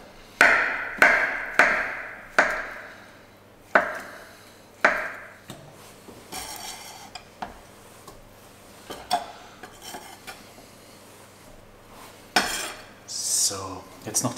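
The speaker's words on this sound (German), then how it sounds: "So, Kartoffeln. Schneidet ihr auch grob in Scheiben." A knife chops potatoes roughly into slices on a cutting board for Hungarian layered potatoes, each stroke a sharp knock: a quick run of cuts at first, then spaced, irregular chops close by.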